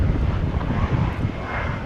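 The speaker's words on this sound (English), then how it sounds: "other planes that are preparing to take off, such as flight 2793 American Airlines" A steady, broad roar from an American Airlines Boeing 737-700 jet at DFW airport at night, continuous and fairly loud with no gaps, heard alone.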